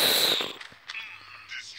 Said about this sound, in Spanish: Lo maté con la granada